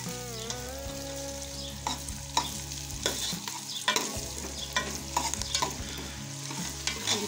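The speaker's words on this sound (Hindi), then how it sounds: "इसको अच्छी तरीके से फ्राई कर लेंगे।" Onions frying with ginger garlic paste in a pan, giving a steady low sizzle with a spoon scraping and stirring in irregular strokes, close and fairly quiet, with faint background music.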